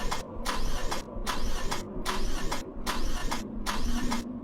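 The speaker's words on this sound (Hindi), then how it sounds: "कई बार गाड़ी स्टार्ट करने की कोशिश की" A car engine cranks over and over without catching, giving a steady starter whine broken by about six evenly spaced bursts. It runs alone and loud for several seconds.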